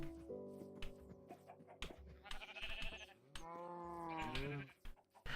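Minecraft cows and other farm animals call out in a cluster of short bleating and lowing cries, close and overlapping, over a quiet game background with no talk.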